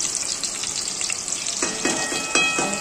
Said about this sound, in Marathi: आता इकडे आहे ना तेल तापत ठेवलेलं आहे. त्याच्यात कांदा भाजून घ्यायचा चांगला थोडा.